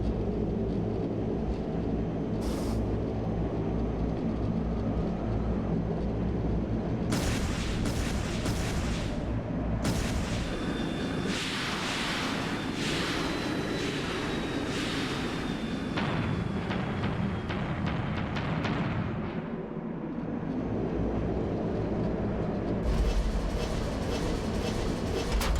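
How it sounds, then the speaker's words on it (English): Heat-seeking missile explosions in the Trails in the Sky SC video game come as a rapid series of sharp blasts and crackling impacts over a steady rumbling background, some in quick bursts, with a brief whistling streak. "Heat-seeking missiles!"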